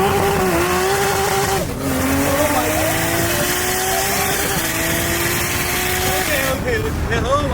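An 800 hp 2JZ-powered Lexus SC300 with big turbo and BMW DCT launches hard on launch control, its engine roaring and climbing through quick gear shifts, loud and close.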